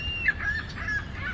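Geese honk a few times at Dufferin Island near Niagara Falls, short nasal calls at moderate distance over an outdoor background of low wind and ambient noise.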